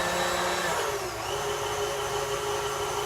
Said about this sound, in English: Now I have mostly everything ground, and I'm going to just grind, just for the effect.